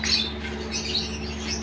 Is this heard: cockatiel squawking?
yes